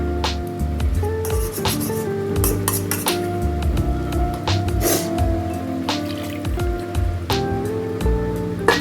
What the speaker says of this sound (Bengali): তার জন্য আমি জল দিলাম।